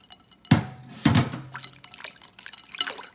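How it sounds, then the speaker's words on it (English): Water from strained spinach drips and splashes into a bowl of ice water, with two distinct close splashes followed by softer trickling. "So I strained out my spinach, got as much water out as I can into the ice water"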